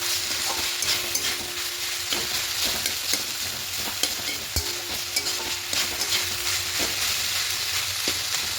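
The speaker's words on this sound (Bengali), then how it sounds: "এবার দিয়ে খুব ভালো করে মিশিয়ে নেব।" Fenugreek greens being stirred in a sizzling pan while cooking a simple chorchori tempered with whole spices, with a constant frying hiss and spatula scrapes and knocks at irregular intervals, and no talk.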